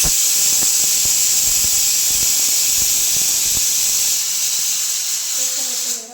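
A pressure cooker cooking lentils for sambar in a home kitchen gives off a loud, steady hiss of steam that holds for several seconds. Faint clicks sit beneath it, and the hiss eases slightly near the end.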